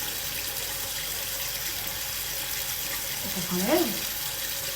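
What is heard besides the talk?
hot water running from a tap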